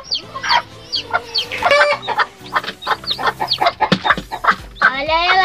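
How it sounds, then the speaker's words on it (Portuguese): A bantam hen clucks steadily among her newly hatched chicks, whose high peeping cheeps sound repeatedly throughout; the calls are close and clear, with a voice occasionally talking over them. "Agora só falta pegar a galinha e um pintinho que tá ali."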